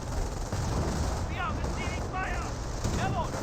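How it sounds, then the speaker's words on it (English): An artillery barrage rains down in the World War II strategy game Company of Heroes, dense rumbling blasts and gunfire packed into a continuous roar while someone commentates over it. "And now we've got artillery barrage into this region."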